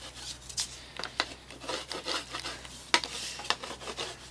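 A marking gauge scrapes a scribed line along wood for a garden trellis, a series of close, rhythmic rasping strokes repeating steadily throughout.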